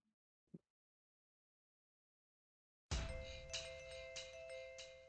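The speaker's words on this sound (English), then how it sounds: "The doorbell doesn't stop." Chiming doorbell sound effect from the visual novel game Fate/Stay Night, starting abruptly after a long silence and a brief thud, then ringing on continuously with repeated bright chime strikes layered over a steady tone.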